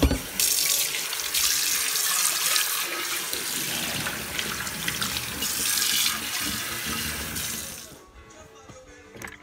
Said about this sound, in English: I'll give this a rinse.